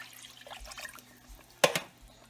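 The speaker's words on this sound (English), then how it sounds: "for each can of puree, we fill it up and we put in a can of water" A can of water is poured into a pot of tomato puree for a meatball sauce, a brief splashy gush standing out from soft kitchen clatter.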